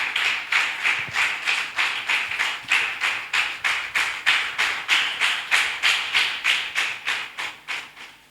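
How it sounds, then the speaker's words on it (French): Church congregation claps in praise of Jesus, about two claps per second in an even, steady rhythm that tapers off slightly at the end, with no talking over it. "Applaudis pour le Seigneur Jésus."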